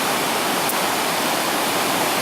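Floodwater rushes through a diversion channel into Ralston Creek in Arvada, Colorado, a loud, steady broadband roar of churning water, continuous and close, with no voices.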